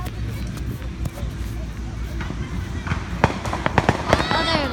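Fireworks go off with scattered sharp pops and crackles that grow busier toward the end, mixed with crowd noise and people talking nearby.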